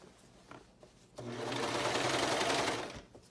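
Sewing machine stitching down a dress facing, a steady whirring run of about two seconds that starts abruptly after a quiet pause and stops cleanly, close and alone.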